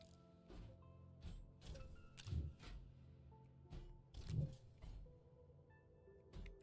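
A large printer in the Astroneer video game runs through a print job, giving soft mechanical whirs and repeated clunking pulses at a low, quiet level with no talk.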